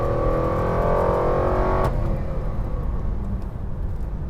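A nitrous-injected Cadillac XLR with a Northstar engine revs hard under acceleration for about two seconds, close and loud, then the engine note cuts off abruptly and leaves a low rumble of road and wind noise.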